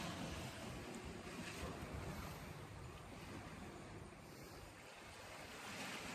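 Ocean waves wash in the distance, making a faint, continuous surf rumble mixed with wind that swells slightly and eases, with no voices.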